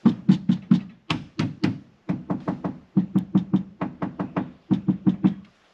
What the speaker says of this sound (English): You can still hear that thing rattling in there